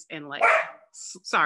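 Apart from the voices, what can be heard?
dog barking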